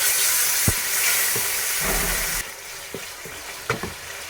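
Whisked yogurt poured into a hot pan for chicken malai boti filling, sizzling and hissing steadily with a few spoon knocks and stirring scrapes, close and fairly loud; the frying hiss drops slightly partway through as the yogurt settles in.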